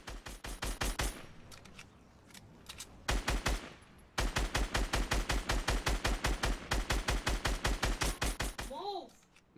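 Rapid bursts of automatic gunfire in a battle-royale video game fight, loud and close, with sustained strings of shots broken by short pauses and a few single cracks.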